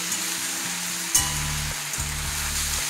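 Agastya flowers sizzle in a pan with a little salt over medium to high flame, a steady close hiss of frying with a brief stir clatter, while a low background hum pulses beneath.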